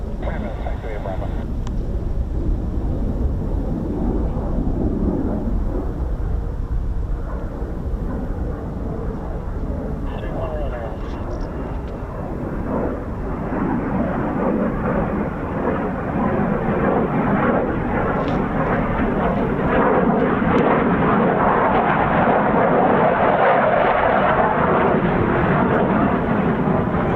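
F-35B and F-35A Lightning stealth jets of 617 Dambusters, 207 Squadron and 493d Fighter Squadron rumble steadily at an airfield, a broad sustained jet roar that swells louder toward the end, with radio talk over it.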